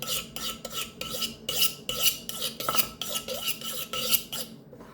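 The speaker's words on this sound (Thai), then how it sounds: "เดี๋ยวเราจะหั่นมะเขือเรนนะคะโอ้โห มีดไม่คมเลย" A blunt knife slicing tomatoes for a Lao dinner, about a dozen rhythmic scraping strokes against the board, close and crisp with short gaps between, alone without talk.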